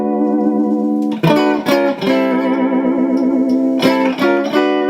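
An electric guitar, a 1967 Watkins Rapier 33, plays sustained chords through a wobbling tremolo effect, with a few quick strums and bends, loud and close.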